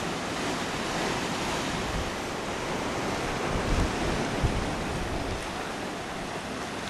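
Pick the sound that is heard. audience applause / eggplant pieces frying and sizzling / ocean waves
ocean waves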